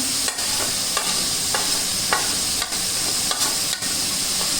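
Masala fries in ghee in a pan with Kashmiri red chili, sizzling steadily with a bright hiss, and a spoon scrapes and stirs in short strokes at irregular intervals.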